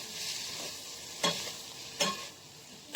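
Spice masala for a cauliflower and potato curry sautéing in a pan, a steady sizzle broken by two sharp scraping stirs, close and fairly loud, with no talking.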